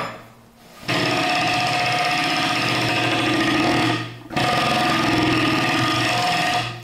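Bicycle freehub spinning with a steady buzzing ratchet whir, broken by a brief pause as it disengages and engages again, loud and close with no talk.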